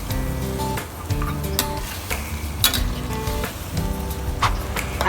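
Pork belly adobo with soy sauce sizzles loudly in a pan, a continuous close frying hiss broken by repeated scrapes and clinks of a spoon stirring.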